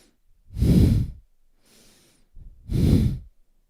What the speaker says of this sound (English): And powerful breaths through the nose now.